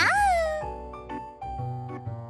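A voice imitates a cat, opening with a drawn-out rising and falling meow, followed by several shorter mewing syllables close to the microphone.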